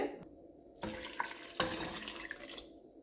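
Water splashes and pours in uneven bursts into a pot of salted mutton leg soup, with a steady rushing sound that starts and stops.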